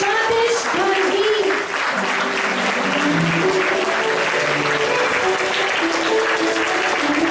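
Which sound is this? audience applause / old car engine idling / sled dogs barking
audience applause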